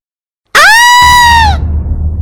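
A woman shrieks in fright in a dramatized horror story, one sharp, loud, sustained scream lasting about a second before it breaks off into low rumbling.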